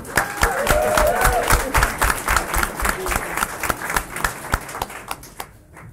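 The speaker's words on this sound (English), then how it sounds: "So I think a round of applause for the bridesmaids" Wedding guests applaud the bridesmaids during the speeches: a crowd of close hand claps, loud at first with a few voices mixed in, then thinning to scattered claps before fading out.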